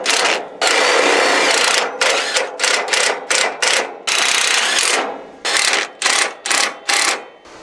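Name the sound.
cordless impact driver driving screws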